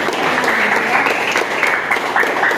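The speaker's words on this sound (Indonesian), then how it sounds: "Tepuk tangan dulu dong untuk kesimpulan dari" Classroom applause during a civics (PPKn) lesson, a steady wash of many hands clapping together for about two and a half seconds, fairly loud and continuous with no speech over it.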